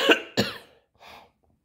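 Two sharp coughs in quick succession, close and fairly loud, followed by a softer third cough, then quiet.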